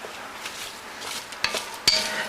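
Onions stirred in olive oil in a pan, with soft scraping strokes and a couple of sharper clinks of a utensil against the pan over a faint background sizzle.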